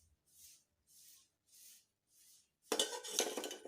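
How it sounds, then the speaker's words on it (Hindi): Boiled peas being strained from a kitchen pot: a soft rhythmic pattern of four faint scrapes or swishes, then a loud, dense burst of clattering, splashing and metallic clinking up close at the end. "अब मैं सारे मटर को छान लूँगी।"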